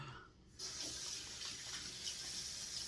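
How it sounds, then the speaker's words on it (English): Cool water from a running tap being splashed on the face during a wet shave at a sink, a quiet gap followed by a steady hiss of flowing water and soft splashes. "Get some cool water on the face"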